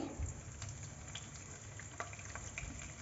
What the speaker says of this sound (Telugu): కరివేపాకు చిట్టపట్లాడుతుంది కదా